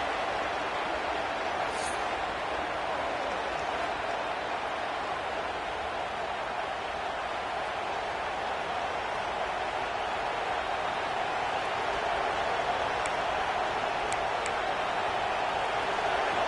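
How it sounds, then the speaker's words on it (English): Stadium crowd at an LSU vs Georgia college football game, a steady broad roar filling the whole stretch at even loudness, with no distinct voices standing out. "The roar of the crowd trying to fuel this defense to keep them pinned in their own end"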